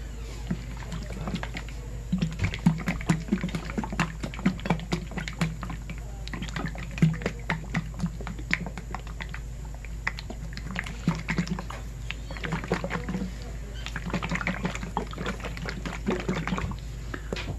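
A jar of Mayco stoneware crystal glaze shaken to stir up settled crystals, giving a steady rattling, sloshing rhythm that is close and fairly loud and goes on for a long stretch.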